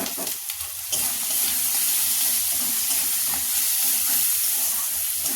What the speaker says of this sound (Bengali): আর এখানে বন্ধুরা হলুদ আর লঙ্কা গুঁড়ো একটু, এই যে মশলা কষবো এবারে আমি